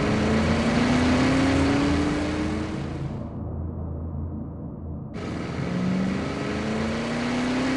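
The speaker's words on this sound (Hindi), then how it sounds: "और मैं गाड़ी में बैठकर वहां से भाग निकला।" A car drives away, a continuous engine hum with rising tonal whine and rumble, loud and close, briefly muffled midway, with no talk.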